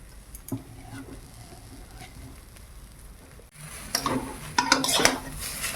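Jaggery is stirred and fried in a pan in a village kitchen, with scraping and metallic clinks of a utensil against the pan that grow louder and busier in the second half, alongside a soft sizzle.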